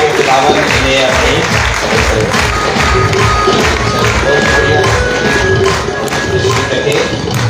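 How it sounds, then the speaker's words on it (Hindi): Dense, steady applause from an audience at a Catholic parish gathering in Abbottabad, clapping for children, sustained for the whole stretch with crowd murmur and voices mixed underneath. "तालियां भरपूर तालियां बजाइए।"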